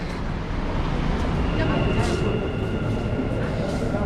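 Loud, continuous rumble and roar of a Dubai Metro train running, with a steady mechanical drone throughout.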